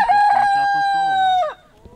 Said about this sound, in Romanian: Uite ce cocoș mândru avem, are două pene în coadă